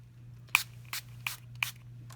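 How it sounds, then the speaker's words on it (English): Four short hissing bursts from a dollar-store plastic spray bottle misting homemade alcohol ink, evenly spaced and close by, over a low steady background hum. "I will spray these right now so you can kind of see"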